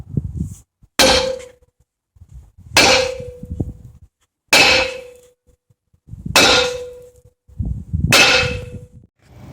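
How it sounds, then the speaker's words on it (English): A sledgehammer strikes a steel vise jaw five times at roughly two-second intervals, each blow a sharp, loud metallic clang with a brief ringing tone, with softer shuffling and handling noises between hits. "Here's the aftermath of me hitting it with that sledgehammer several times."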